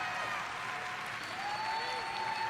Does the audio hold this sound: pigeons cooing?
no